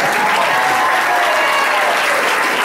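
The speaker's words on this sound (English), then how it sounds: "Let's give a round of applause." Enthusiastic applause from a primary night political campaign crowd, dense and steady clapping throughout.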